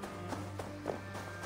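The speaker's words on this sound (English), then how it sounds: "Horse?" Horse hooves clop in Assassin's Creed Valhalla, a quick, faint, regular series of four muffled hoofbeats over a low steady hum.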